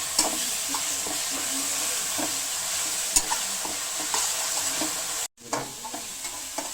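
Steady sizzling of ginger-garlic paste in a hot pan with intermittent scraping and stirring clicks, briefly cutting out before the frying resumes.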